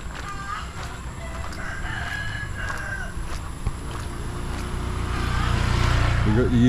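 Chickens cluck and a rooster crows amid outdoor village noise in Port Barton, Palawan, with a low rumble growing louder toward the end.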